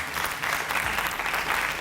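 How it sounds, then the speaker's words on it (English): Brief, dense audience applause following a debate on a leadership competition show, a continuous wash of many hands clapping, loud and close throughout. "A round of applause for that debate."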